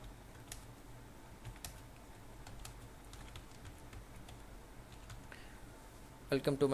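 Typing on a computer keyboard while entering website text, with soft irregular keystrokes under low background noise and a brief burst of louder clicks at the very end.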